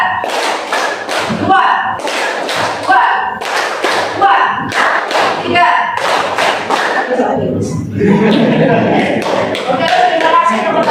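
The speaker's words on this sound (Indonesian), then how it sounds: "terima kasih tepuk tangan dulu" A group in a teacher coaching session claps together in sharp, patterned bursts on a spoken count, loud and close, with a voice calling the numbers between the claps and a looser round of clapping near the end.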